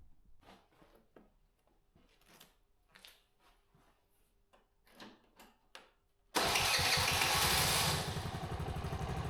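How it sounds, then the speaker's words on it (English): A Vespa ET4 50 scooter with a four-stroke engine and a freshly changed spark plug starts with a sudden loud catch, then settles into a steady close idle after quieter handling noises and clicks. "getting the Vespa started up just to check that everything is working"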